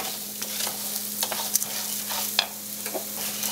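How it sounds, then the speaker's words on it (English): Risotto rice toasting in oil is kept moving around a pan, making close, repeated spoon scrapes and light sizzling crackles over a faint steady hum. "the trick is to kind of keep moving everything around, letting the rice absorb the oils, and lightly toasting"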